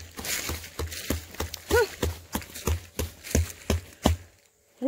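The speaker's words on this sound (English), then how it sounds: "That's a neat rock you're stomping on." A series of about ten hollow, knocking thuds in a steady rhythm from stomping on a hollow-sounding rock outdoors, close and fairly loud.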